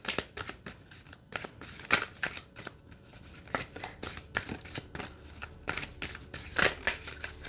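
A tarot card deck being shuffled by hand makes a continuous run of close, papery riffles and flicks for several seconds, with no speech.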